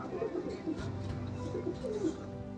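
A pair of black house pigeons with trimmed foot feathers coo steadily in a loft, soft rolling calls repeating under a constant background hum.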